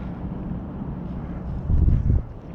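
Wind gusts buffet the microphone outdoors during a fishing outing, a steady low rumble that swells louder near the end before easing off.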